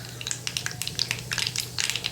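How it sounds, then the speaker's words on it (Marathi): Mustard seeds crackle and pop in hot oil in a kadhai, a quiet, close series of sharp irregular snaps over a soft sizzle. "मोहरी चांगली तडतडू द्यायची आहे"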